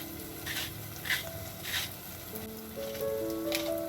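Chicken sizzles and fries in a pot while spices such as salt, black pepper, paprika, red pepper and cinnamon are added and stirred, a steady close crackle with light scraping and soft patter.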